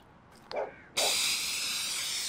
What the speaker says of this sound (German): Und hört das Gesprühe.